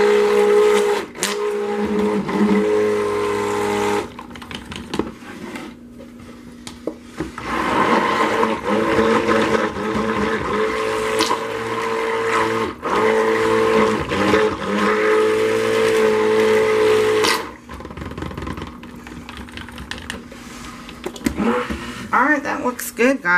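Cold process soap batter made with cocoa butter and milk is blended with an electric stick mixer, a loud steady motor whine that runs in bursts, with short pauses between spins.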